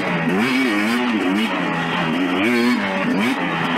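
A 2019 KTM 250 XC two-stroke dirt bike ridden at a local riding spot makes a close, continuous engine note that rises and falls as the throttle opens and closes.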